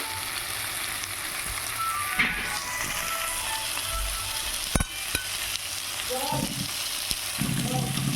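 Spice masala with tomato fries in a pan for a cauliflower and fish curry, a steady sizzle with occasional spatula taps and scrapes, close by and continuous.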